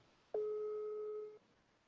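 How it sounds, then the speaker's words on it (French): WhatsApp call ringback tone: one steady electronic beep lasting about a second, clear and alone over a quiet background. "Ça passe sur WhatsApp. Ça sonne."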